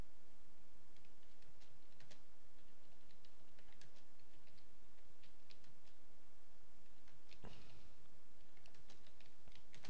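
Steady computer keyboard typing while filling in a WordPress plugin form, many quick, light key clicks in uneven runs over a constant background hiss, with no talking.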